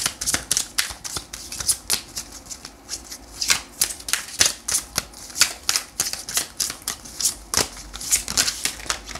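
Tarot cards are shuffled and drawn with a rapid series of crisp, close riffling snaps and flicks in irregular bursts, with no talking.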